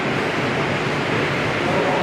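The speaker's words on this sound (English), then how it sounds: "So the only noise you hear in this is the dehumidifier." A dehumidifier runs inside a water treatment plant building, giving a steady, fairly loud broadband whoosh with no breaks and no other sounds.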